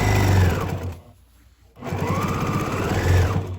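A sewing machine stitches a store-bought quilt, running in a fast steady whirr, stopping for about a second, then starting again for another run close by.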